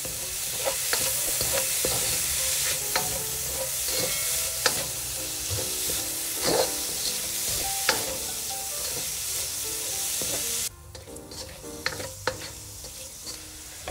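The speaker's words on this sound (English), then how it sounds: "Now make sure you are stir frying on a medium heat." Steady sizzling and crackling of fried rice with eggs and sweet pepper stir-frying in a hot pan over medium heat, with scraping and clinking of a utensil throughout; the sizzle drops briefly near the end.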